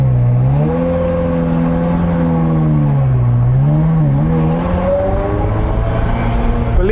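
A Ferrari 360 pulls away uphill, its engine note rising and dipping in pitch as revs climb and settle, loud and close from inside or beside the car, with a low steady drone continuing beneath.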